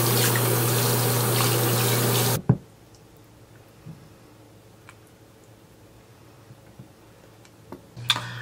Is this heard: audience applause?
no